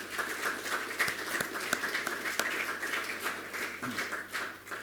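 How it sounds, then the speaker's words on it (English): Audience applause for the speakers at a technology event's afternoon session, a fairly soft, diffuse patter of clapping with a few sharper claps, heard from a moderate distance and holding steady. "Can we get a round of applause for all of our speakers this afternoon?"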